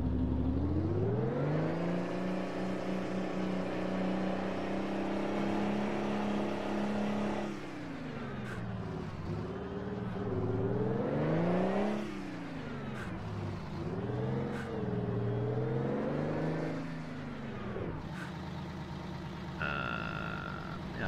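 A Mack B62 truck engine in American Truck Simulator, driven up the Baja, drones loudly through a long pull, then drops and climbs repeatedly in pitch as it works through gear changes, with brief clicks between shifts.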